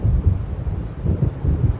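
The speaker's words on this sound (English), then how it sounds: "It seems there's a storm coming." Deep, rolling thunder from an approaching storm over the waves in Alan Wake Remastered rumbles in uneven low swells, close and heavy, with a windy wash around it.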